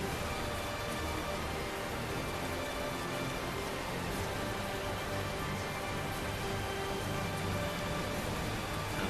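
Steady rain in the video game Tales of Zestiria, a constant soft hiss of falling drops on surfaces that runs evenly throughout with no other sounds.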